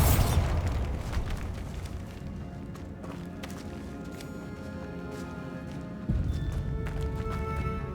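A Bombarda spell explosion in Hogwarts Legacy opens with a loud burst that decays into rumbling debris and scattered crackles, followed by a second swell of rumble a few seconds later.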